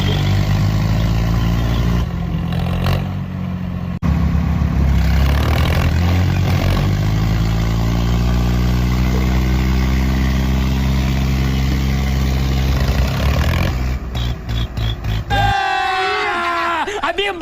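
Tractors at an outdoor tochan pulling contest with a bulldozer, including a John Deere 5210 and a 963 model, rumble loudly and steadily at idle with rising revs, the heavy diesel drone continuous under shouting and talk.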